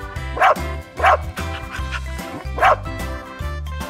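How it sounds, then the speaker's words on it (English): A dog barks three times in sharp, spaced woofs over a steady musical backing, with softer yips between. "Dog."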